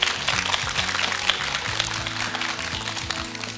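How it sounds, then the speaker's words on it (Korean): Steady applause from an audience at a Korean education talk-concert, sustained and fairly dense throughout, with a faint low tonal hum beneath. "이정준 당장님 그리고 이은우 선생님께 큰 박수 보내주시기 바랍니다."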